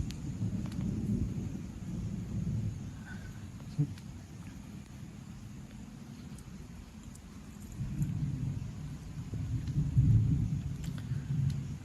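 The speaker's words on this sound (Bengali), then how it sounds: "এখন অলরেডি বৃষ্টি পড়ছে।" Steady rain falls with low thunder rumbles rolling through at a moderate distance, swelling louder toward the end, heard from an open rooftop on a stormy morning.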